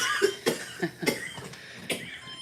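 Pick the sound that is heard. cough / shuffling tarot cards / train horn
cough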